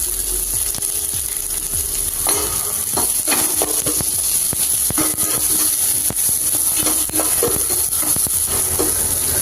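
Onions and tamarind frying together in a hot pan, a steady close sizzle with scattered clicks and scraping stirs throughout, no talking.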